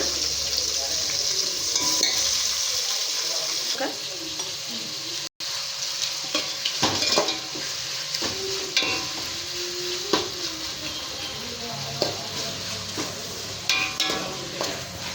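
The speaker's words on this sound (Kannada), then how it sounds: "ಅರ್ಧ ಈರುಳ್ಳಿ ಅಷ್ಟೇ ಹಾಕಿ ಇನ್ನರ್ಧ ಫ್ರೈ ಮಾಡ್ಕೊಳ್ಳೋಣ" Onion and ginger garlic paste fry in a pan with a dense, lively sizzle. Frequent stirring scrapes and utensil knocks ride over it, close and loud throughout, with one brief dropout partway.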